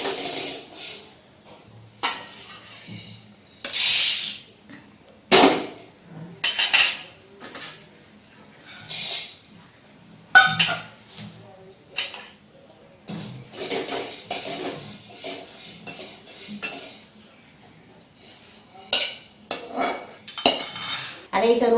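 Whole spices dry roasting in a pan, heard as intermittent metallic scrapes and clinks of a spoon against the pan in irregular bursts, fairly close, with quiet gaps between.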